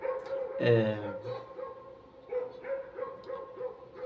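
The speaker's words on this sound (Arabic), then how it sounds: "بعتذر على صوت الكلاب الجميله اللي في الشارع" Street dogs bark and yelp outdoors at night around 4 a.m., one near sharp burst followed by scattered fainter barks further off, with a man's brief sigh over them.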